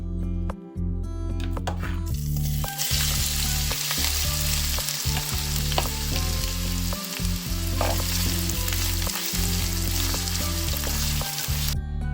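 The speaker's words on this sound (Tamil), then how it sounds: "அதை எண்ணெயில் பொரிய விட போகிறேன்" Sliced onion fries in hot oil for a dried anchovy dish, giving a loud, continuous close sizzle with occasional stirring clinks and scrapes throughout.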